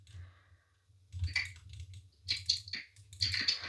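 Computer keyboard keys and a mouse clatter in quick, irregular bursts during gaming, with fast clusters of close clicks and taps separated by brief pauses and a low background hum.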